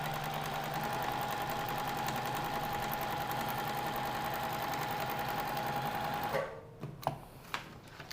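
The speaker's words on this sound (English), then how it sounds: "So we're gonna sew along right on this black line" A sewing machine stitching fabric along a marked line for a paper-pieced cowboy boot panel, a fast steady mechanical whir close by that stops abruptly, followed by a few faint clicks and handling sounds.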